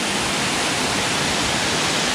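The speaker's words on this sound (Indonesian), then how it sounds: "Kemudian ini air terjunnya." Jumog waterfall on the slopes of Mount Lawu in Karanganyar, a steady close roar of falling water filling the whole clip without pause, loud and even with no voices over it.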